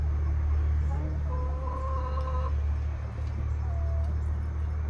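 Young chickens and roosters cluck and squawk in a coop, a few short tonal calls over a steady low hum, fairly close.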